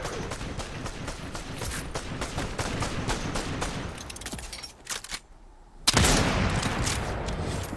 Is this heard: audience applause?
no